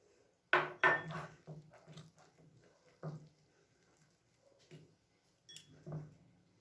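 Batter for patisapta, a sweet crepe, being mixed in a bowl as milk is added little by little, giving sharp clinks and knocks of a utensil against the bowl, a loud pair first and then sparser taps, close up with no talk.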